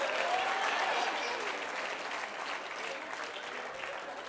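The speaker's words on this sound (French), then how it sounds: "On applaudit les enfants et Karine" A studio audience at a French television game show applauds the children, a dense and steady wash of clapping that carries on evenly for several seconds.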